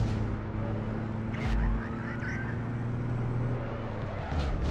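A car driving in the online game APB Reloaded, its engine a steady, continuous drone at close range with a brief thump partway through, no talk over it.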